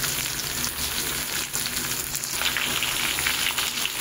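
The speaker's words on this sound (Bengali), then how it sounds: "সব একসাথে এবার একটু মিশিয়ে নিয়ে হালকা ভাজবো" Vegetables seasoned with turmeric and salt are lightly fried in a pan, filling the space with a close, dense, continuous sizzle and faint stirring underneath, with no voices.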